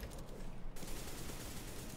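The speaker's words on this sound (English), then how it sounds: "I'm being shot at." Short, fairly faint burst of rapid gunfire in CS:GO, a rattle of shots crackling over game ambience for about two seconds.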